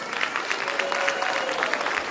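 Audience clapping at a school board meeting honoring student competition winners, a steady, moderately loud patter of many hands with a faint tonal hum underneath and no voices over it.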